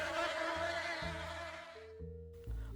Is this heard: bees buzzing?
yes